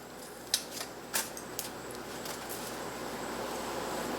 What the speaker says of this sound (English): Now we'll cut up the red pepper.